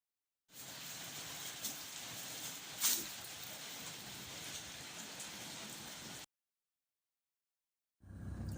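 Rain falls in a steady, close hiss with one sharper tap partway through. It cuts off abruptly after about six seconds, leaving silence before a low rumble begins at the end.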